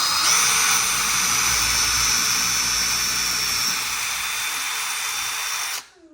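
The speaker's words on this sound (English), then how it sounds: "let's go ahead and drill those holes" A power drill whines steadily at high pitch for several seconds, drilling pilot holes to mount an aluminum LED shop light, close and loud, then stops abruptly.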